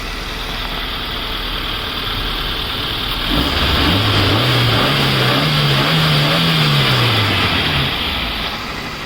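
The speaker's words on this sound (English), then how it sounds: "You can just make out the engine noise of the vehicle." A 2012 Maruti Gypsy hardtop 4x4 with an MPFI petrol engine idles close by, steady and loud, then its note rises and wavers as the engine is revved gently midway before settling again.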